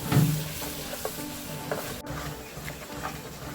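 Crushed ginger and garlic sizzle in hot frying oil left from frying chicken, with a sharp scrape of stirring at the start, then a soft, steady hiss and occasional faint stirs close by.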